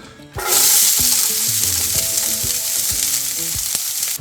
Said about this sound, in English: we're going to start by adding some onions